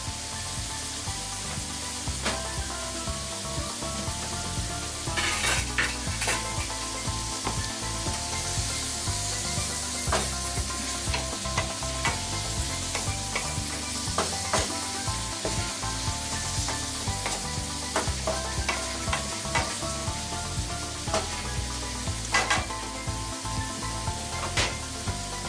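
Minced pork and mixed vegetables sizzle steadily in a pan, with repeated scraping and stirring strokes over the frying for the whole stretch.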